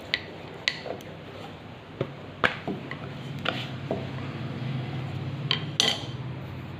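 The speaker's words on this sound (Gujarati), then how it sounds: "પતલા બનાવવાના છે આવી રીતના થેપલાને વણી લેવાના છે" A rolling pin works Gujarati thepla flatbread dough on a board, giving soft repeated knocks and taps at an uneven rhythm over a steady low background hum.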